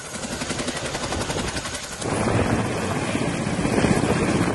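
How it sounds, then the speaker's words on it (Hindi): Indian Air Force Chinook and Mi-17 helicopters fly over the flood-hit Kedar valley, giving a loud, steady rotor roar that swells louder about halfway through and then holds without any voices. "इन दिनों वायुसेना का ये हेलीकॉप्टर चिनूक और MI-17 कुछ इसी तरह से केदार घाटी में मददगार बने हुए हैं"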